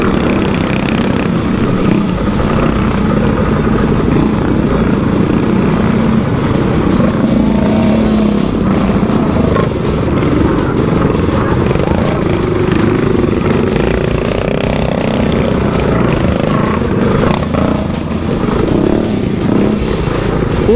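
Modified motorcycle engines roar loudly and continuously at a race start during a Harley-Davidson 120th anniversary rally, a dense overlapping snarl of revving bikes close by for the whole stretch.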